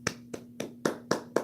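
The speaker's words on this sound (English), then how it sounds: "round of applause there" Six slow, evenly spaced hand claps from a single person, crisp and close but fairly quiet, with no other sound between them.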